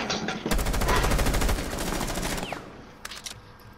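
Video game gunfire erupts in a rapid burst of loud repeated shots, followed by a pause and a couple of shorter bursts fading into quieter background.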